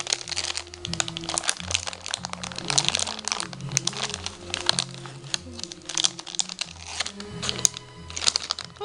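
Candy Crush sweets packet being torn open and crinkled by hand, plastic crackling and rustling steadily through the whole stretch, close and fairly loud, with background music playing underneath.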